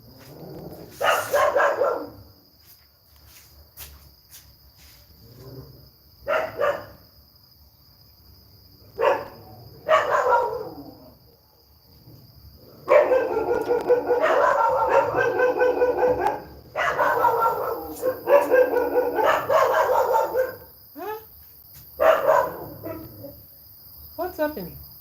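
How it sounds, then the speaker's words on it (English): Several dogs barking noisily at night, bursts of loud yapping and barking that come and go, then a sustained stretch of overlapping barks, with a constant high cricket chirp in the background. "The dogs are suddenly so noisy."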